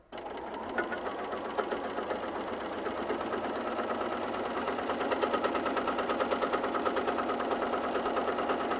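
A sewing machine stitches a line on Texture Magic fabric, a fast steady mechanical whirr with rapid needle clatter running continuously and close, slightly building in rhythm toward the end.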